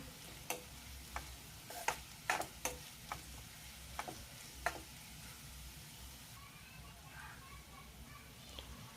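Crushed garlic and onion fry in oil for a lima bean curry, a faint, steady sizzle broken by scattered light taps of a stirring spoon against the pan.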